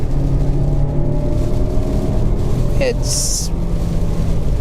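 Lexus NX 200t turbocharged engine while driving: a steady, moderately loud drone with low engine hum and road and wind noise, someone talking over it and a brief chime near the end.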